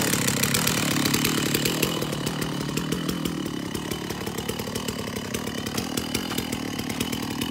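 A chainsaw runs steadily close by while sawing a bog oak sample, its engine buzzing with a rough, continuous drone and slight shifts in pitch, with no talking.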